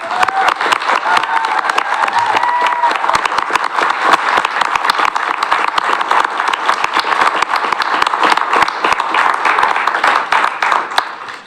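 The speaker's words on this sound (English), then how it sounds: "Let's give another round of applause" Sustained audience applause fills a city council meeting chamber, a dense steady patter of many hands clapping loudly for the whole stretch, with a few brief cheers mixed in near the start.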